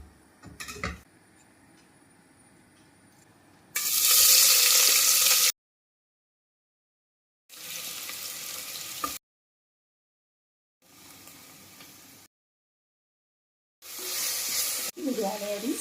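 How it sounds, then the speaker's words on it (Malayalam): Sliced onions sauté in a hot pan for potato rice, hissing and crackling in several separate loud bursts broken by abrupt silences, with a faint stirring clatter near the end. "സവാള വഴറ്റുക"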